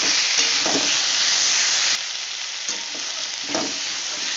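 Onion paste and potatoes fry in oil for a cauliflower, potato and katla fish dish. A loud, continuous close sizzle runs throughout, broken by a few soft scraping stirs of the spatula.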